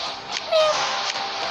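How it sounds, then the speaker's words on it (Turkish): A cat lets out a short, plaintive meow close by, over a faint background hiss. "kedi yine bağırıyor"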